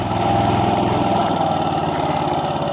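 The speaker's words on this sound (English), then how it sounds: "Oh, I started it without choke." A John Deere RK54 commercial lawn mower with grass bag runs close by after being started without choke, its engine holding a steady, loud, throbbing drone with no talk over it.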